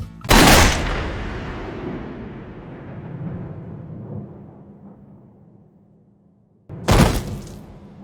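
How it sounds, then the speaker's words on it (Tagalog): Two heavy gunshots ring out in an anime fight scene, each a loud blast, the first trailing off in a long rumbling echo before the second bursts in near the end. "Binaril ni Toji si Amanai sa harap mismo ni Geto"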